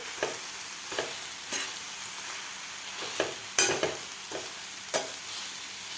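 Mixed vegetables with kasuri methi are stirred in a pan for paratha filling: a light background sizzle punctuated by about eight distinct spatula scrapes at an uneven rhythm, close up.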